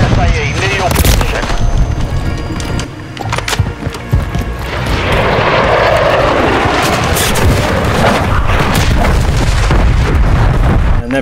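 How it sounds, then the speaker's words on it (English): A cruise missile strike in Call of Duty MW3 brings a long, rolling, roaring blast that swells and holds over continuous gunfire and battlefield booms. Voices are heard under the din. "Hostiles launched a cruise missile."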